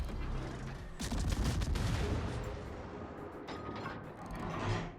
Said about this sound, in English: Yeah, that's the Jinan firing at me right now.